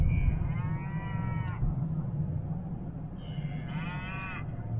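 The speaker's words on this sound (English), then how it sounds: "Did you hear that moo?" A cow moos twice on a farm, close and loud, each call a long drawn-out low lowing separated by a short pause, with steady background noise and no talking.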